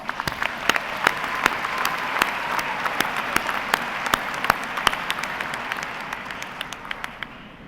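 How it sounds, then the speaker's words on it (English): At a university graduate commencement, a large audience claps in a dense, steady roar with sharp individual claps standing out, holding for several seconds before starting to taper. "Please give yourselves a round of applause."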